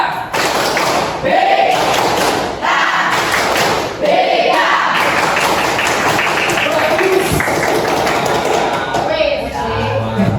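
A group of students does the "Tepuk BK" clapping chant in a school counselling session, loud, dense rhythmic claps and thumps running throughout with voices chanting along.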